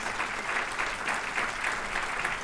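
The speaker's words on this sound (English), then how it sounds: "Give him a big round of applause." Audience applause at a civic event honoring a city mayor, a steady wash of many hands clapping at moderate distance, continuous with no talk over it.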